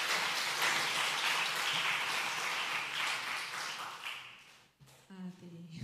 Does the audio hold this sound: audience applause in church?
yes